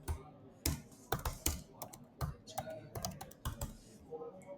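Quick, irregular keystrokes on a computer keyboard as a name is entered into a form, close and crisp with brief pauses between bursts of clicks, and faint talk in the background.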